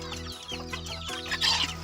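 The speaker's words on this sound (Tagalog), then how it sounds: "Ayan na guys yung mga manok natin." Penned chickens waiting to be fed cluck in short repeated bursts, close by, with a steady low hum underneath and no speech.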